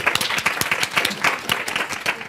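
An audience at a criminal justice reform conference applauds a speaker being introduced, brisk continuous clapping with distinct individual claps, fairly close and steady.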